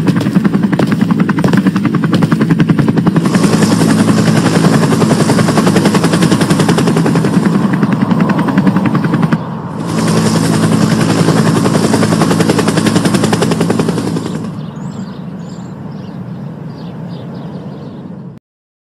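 Helicopter rotor chopping loudly and continuously in a rapid, gun-like pulse, briefly cutting out and then returning before fading to a quieter hum near the end.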